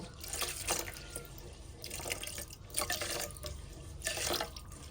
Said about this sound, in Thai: ใส่น้ำสำหรับหุง เราจะใส่น้ำให้เหมือนกับหุงข้าวปกติเลยนะคะ